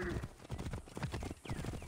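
Horse hooves clip-clop steadily in Assassin's Creed Origins, a rapid rhythmic trot heard close and continuous beneath background game noise, with a faint whinny-like sweep near the end.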